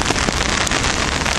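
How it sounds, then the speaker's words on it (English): Rain falls in Central Park, New York, near the south entrance by 57th Street: a loud, dense, steady hiss of drops on surfaces mixed with gusty wind buffeting the microphone, and no one speaking. "It's raining."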